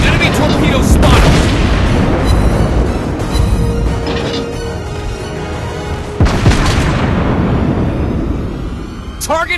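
Ship explosions and artillery fire in World of Warships Blitz rumble loudly and steadily, heavy overlapping booms with a sharp blast partway through, and game voice callouts sound over the barrage.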